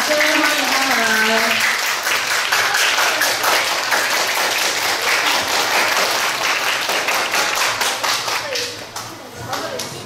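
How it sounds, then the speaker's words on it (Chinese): A school audience claps loudly to welcome a class candidate team at a student mayoral election speech event. The applause starts at full strength, holds steady and thick, then thins out near the end as a voice comes in. "大家以热烈的掌声欢迎他们"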